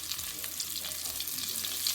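Oxtails sizzling in hot oil, a steady crackling fry with bright spitting pops throughout, close and fairly loud.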